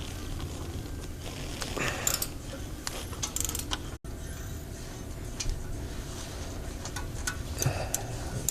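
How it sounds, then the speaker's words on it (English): A ratchet backs out exhaust manifold bolts on a Chevy V8 with rapid, close clicking in bursts and short pauses, plus metallic scrapes and clunks of the tool shifting. "Ratchet."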